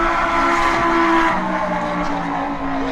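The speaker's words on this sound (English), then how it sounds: "That Gallardo sounds pretty good." A Lamborghini Gallardo's engine drones loudly as it drives past at a late-summer car gathering, a steady broad roar with a sustained tonal hum that eases slightly toward the end.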